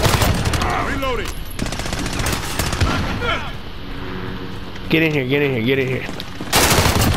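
Rapid AUG fire in Call of Duty Modern Warfare: loud, dense bursts of automatic gunfire with other battle noise, and someone talking over parts of it.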